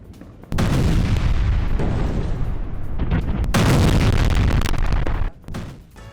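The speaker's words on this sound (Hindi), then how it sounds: "बेरूत के दाहिया में आईडीएफ की बमबारी, हिजबुल्लाह के ठिकानों पर बमबारी की गई" IDF bombing in Dahiyeh, Beirut, striking Hezbollah positions: a heavy explosion roars out suddenly and rumbles loudly for about five seconds, then fades into a lower, distant rumble.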